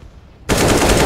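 An automatic rifle sprays a rapid burst of fire in Counter-Strike, starting abruptly after a quiet moment and continuing as dense, loud, close gunfire.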